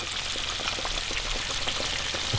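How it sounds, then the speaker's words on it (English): Flour-coated wild turkey sliders frying in a pot of oil give a steady, close, dense crackling sizzle that holds evenly throughout, with no voices. "So we got our last bit of sliders that are frying right now."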